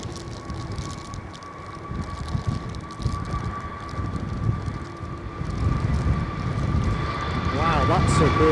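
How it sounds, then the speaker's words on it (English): An EasyJet Airbus A320neo bound for Bristol takes off in gusty 50 mph wind at Edinburgh airport, its engine roar building steadily from a distant rumble to a loud, broad whine under wind noise. "this is an EasyJet 320 Neo off to Bristol"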